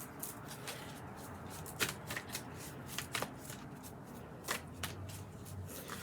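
Tarot cards being shuffled up close, a rustling run of riffles and flicks broken by a few sharper slaps as the deck is squared, with no talking.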